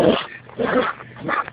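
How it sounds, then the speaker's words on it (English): A dog tugs at a rope with a man, growling and grunting continuously in a loud, close, throaty rumble that swells in bursts. "this poor man's getting attacked by this dog."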